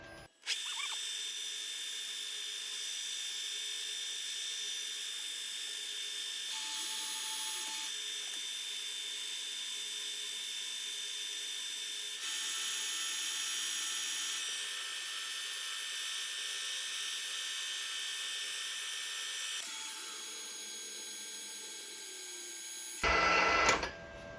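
A drill cuts a 4.5 mm hole in a replacement part for a failed 3D-printed piece. A continuous loud whir runs almost the whole time with slight shifts in pitch, then a brief louder burst near the end.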